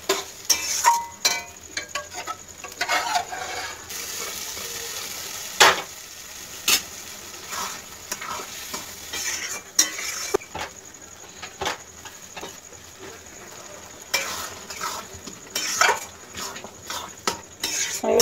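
Dal with spices, including large chana dal, is stirred in a pan over raised heat. A utensil scrapes and knocks against the metal in irregular clinks and taps over a faint sizzle.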